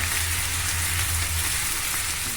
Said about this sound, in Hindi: तो अब ये राई तड़कने लगी है तो मैं इसमें सबसे पहले ये अदरक डालूंगी